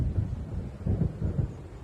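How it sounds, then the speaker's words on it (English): Low rumbling thunder from an approaching storm in the game Alan Wake, rolling in several deep swells over a couple of seconds, moderately loud with no other sounds on top. "It seems there's a storm coming."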